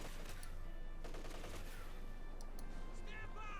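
Gunfire in the World War II strategy game Company of Heroes 2, with rattling bursts and scattered shots under a continuous battle ambience while a commentator talks.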